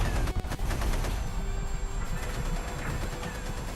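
Tank gunfire in the Sherman Commander video game, a loud rapid fusillade of shots and booming blasts packed into a few seconds over continuous battle rumble.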